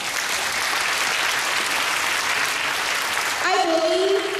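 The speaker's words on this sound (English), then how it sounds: "Can we give Joanne a big round of applause, please?" A training-event audience applauds in a dense, steady wash of clapping, and a voice cuts in over it near the end.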